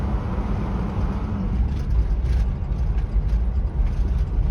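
A vehicle on the road towing an empty boat trailer converted to a flatbed, heard from inside as a steady, loud low engine and road rumble with faint rattles and no speech.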